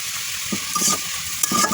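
Ivy gourd (telakucha) leaves fry in a pan with a steady close sizzle, broken by brief stirring scrapes and clinks, no voices.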